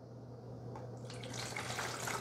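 Fresh water pours from a carafe into the reservoir of a Black+Decker 12-cup Mill and Brew coffee maker, a steady close splashing stream that grows brighter and fuller after the first second, over a low electrical hum.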